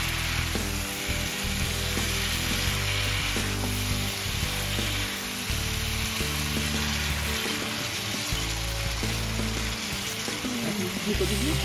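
Meat sizzles and fries steadily in a pan during kosha in a home kitchen, a constant loud crackling hiss with occasional stirring scrapes, running unbroken throughout.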